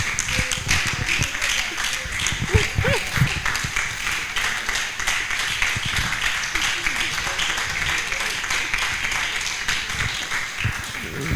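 Ceremony audience at a medical laboratory science induction applauding as a speaker walks to the podium, steady crowd clapping with a voice talking over it much of the time.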